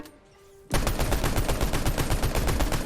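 A Fortnite assault rifle fitted with attachments fires a long sustained automatic burst, loud and rapid with evenly spaced shots, starting after a short quiet lead-in.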